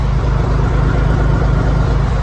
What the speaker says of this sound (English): you'll just be able to hear the exhaust and not the air.